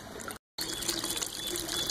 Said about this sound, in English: you can see there's noticeably more water actually going through these now